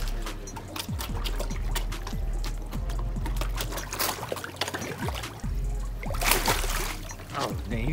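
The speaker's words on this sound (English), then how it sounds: "Oh dang, he decided to splash us." Water splashed by an animal in a tank, sloshing and dribbling in several bursts across the clip, close by, with people talking over it.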